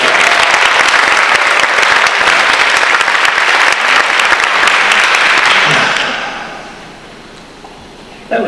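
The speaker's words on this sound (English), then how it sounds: "Give them a round of applause." Loud, dense applause from a crowd at a spiritual center talk that holds steady for several seconds, then fades away to near quiet.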